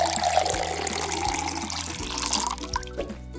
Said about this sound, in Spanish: Suena como agua.